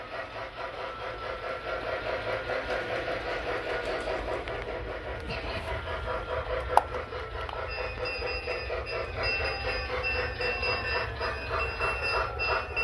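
Lionel 2009 Pennsylvania Flyer ready-to-run model train running on its track, a steady rolling mechanical hum with a faint rhythmic clatter throughout and one sharp click midway.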